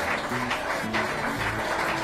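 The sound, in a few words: bystanders clapping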